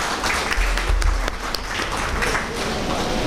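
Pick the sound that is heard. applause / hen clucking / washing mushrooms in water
applause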